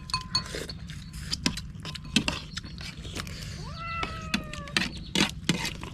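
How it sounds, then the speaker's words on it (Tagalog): A cat gives a clear, drawn-out meow midway, close by, amid scattered clinks and taps and a low background hum. "May pusa."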